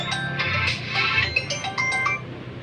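A telephone rings with a bright, tuneful ringtone of repeating electronic notes, loud and steady for a few seconds.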